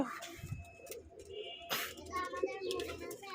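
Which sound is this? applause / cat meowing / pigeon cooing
pigeon cooing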